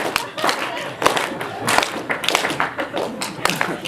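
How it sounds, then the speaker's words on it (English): A group of people in a crowdsourcing experiment claps along, loose and uneven hand claps that land out of sync, with some talking mixed in. "these claps are delayed and often extremely noisy"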